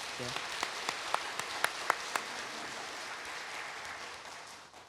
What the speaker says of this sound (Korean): 우리 박수로 한번 우리 감사의 박수 한번 하겠습니다.